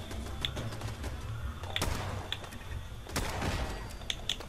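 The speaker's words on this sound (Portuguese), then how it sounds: "Tô tomando tiro pra caramba" Gunfire in the post-apocalyptic shooter Fallout 4 comes as a few sharp, scattered shots against a low rumbling background, with irregular gaps between cracks.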